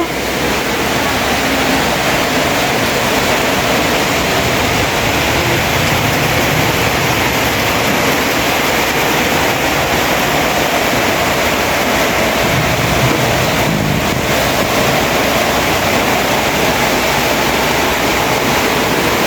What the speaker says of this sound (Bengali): বাতাস আর বৃষ্টি শুরু হয়ে গেছে।